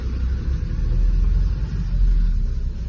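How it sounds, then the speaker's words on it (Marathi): A car pulls away from a rough dirt road with a deep, steady engine rumble and low road noise, close and continuous, with no voices. "बघा फायनली निघाली गाडी."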